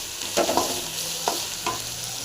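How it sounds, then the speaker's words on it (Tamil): Masala and tomatoes for a radish kara kuzhambu fry in a pan, with a few distinct spatula scrapes and stirs over a soft continuous sizzle, close and without voices. "அப்படி நல்லா ஃப்ரை ஆகட்டும்"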